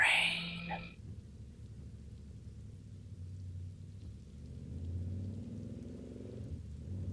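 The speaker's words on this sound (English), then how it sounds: "I know it's raining." Rain falls in the video game Final Fantasy XV Royal Edition as a steady, low, rumbling hiss that continues without break, with a short bright sound at the start.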